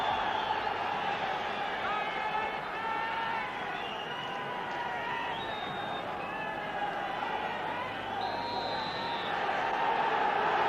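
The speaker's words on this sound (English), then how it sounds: "Huge crowd inside Tannadice as Rapid Vienna start the match" A huge football crowd at Tannadice for Dundee United against Rapid Vienna fills the stadium with a steady roar and hubbub that swells slightly near the end, with a commentator's voice over the noise.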